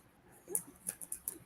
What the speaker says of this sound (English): Hold on to the dog.